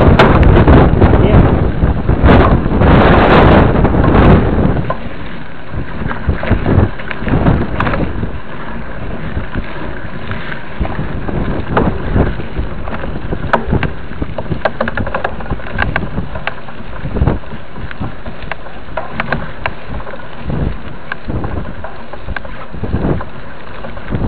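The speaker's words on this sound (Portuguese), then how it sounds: "Vento, hein?" Wind buffeting the microphone during a group mountain bike ride on trails near Taubaté, São Paulo, with rough gusty rumble and clatter throughout, loudest in the first few seconds, under brief bits of talk.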